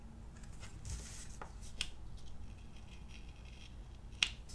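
Scissors cutting planner paper at close range, quiet snips and paper rustles with a couple of sharper clicks, soft and intermittent in a quiet room.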